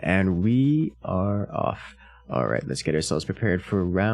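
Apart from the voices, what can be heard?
No everyday noise stands out behind the speech.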